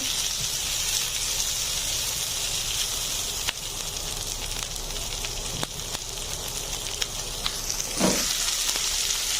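Capsicum frying with onion in a pan gives a steady broadband sizzle and hiss throughout, with a few sharp ticks and a brief louder stir-like burst near the end, no voices.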